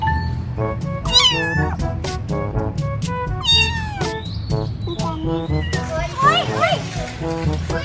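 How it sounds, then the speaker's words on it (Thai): A lost, lone kitten meows repeatedly and loudly up close, its cries rising and falling in quick bursts with some rustling in the background. "ลูกแมวหลงทางแน่ ๆ เลย ทำไมอยู่ตัวเดียวล่ะ"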